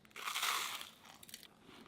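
A close, crisp crunch sounds as someone bites into a buttered Weetabix biscuit, with one loud burst followed by a few smaller chewing crackles and no talk.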